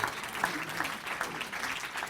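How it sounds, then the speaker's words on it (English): An audience gives warm applause at a Speak Up charity event, a steady, moderately soft patter of many hands clapping for a couple of seconds with no pause. "how about a nice warm round of applause"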